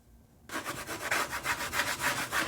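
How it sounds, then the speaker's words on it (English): A craft transfer is rubbed onto a wooden surface in quick, rhythmic back-and-forth strokes, each producing a close, scratchy swish after a brief quiet start. "Now let's just rub that a little bit better"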